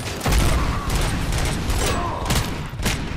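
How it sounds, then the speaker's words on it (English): Shotgun blasts in Robocop: Rogue City: several heavy booming shots with mechanical clatter between them, loud and close amid ongoing game combat noise. "I think that's a shotgun"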